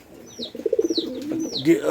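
A pigeon coos in a soft repeated burble close by, with faint chirps above.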